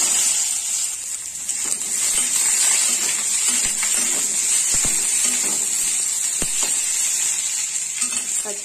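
Panch phoron and dry red chilies sizzle steadily in hot oil for a simple Indian vegetable dish, a close, continuous crackling hiss with occasional sharper pops and no talking.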